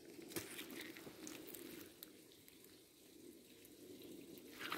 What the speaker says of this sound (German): Oh, hier plätschert irgendwas rechts von mir.